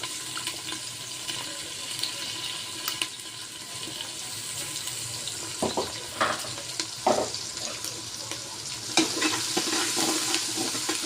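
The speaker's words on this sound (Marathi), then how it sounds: "याला थोडं तांबूस कलर येईपर्यंत आपल्याला कांदा होऊ द्यायचा आहे तेलामध्ये।" Chopped onion frying in oil in a cooker for Muharram khichda, a steady close sizzle with occasional stirring scrapes and clinks throughout.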